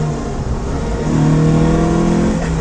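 A classic Alfa Romeo GTV engine revs loudly and close by, its throaty note rising as the throttle opens and holding a strong, harmonic-rich howl before easing slightly.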